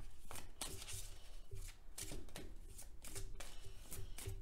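Reiki tarot cards being shuffled and handled: a steady run of crisp riffling and flicking bursts, close and quiet, with regular slaps as the deck is tapped together. No talking.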